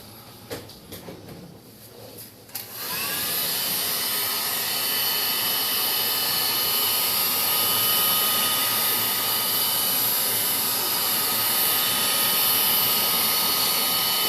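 A heat gun blowing onto the top cover of a Ford Ranger ECU starts with a few handling clicks, then settles into a loud, steady rushing blower whine that runs unbroken to the end.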